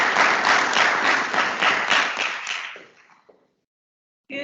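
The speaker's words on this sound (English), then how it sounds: "So if we could give Dr. Younghans a big round of applause for the grand rounds today." An audience at a psychiatry grand rounds lecture gives a burst of applause that fades out over about three seconds into silence, followed by a brief sound at the very end.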